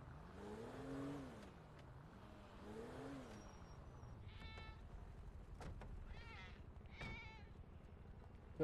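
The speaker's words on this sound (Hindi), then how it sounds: "किसकी आवाज आ रही है? बकरी की।" A goat in GTA V gives two wavering bleats over a low engine hum, followed by several shorter, higher calls.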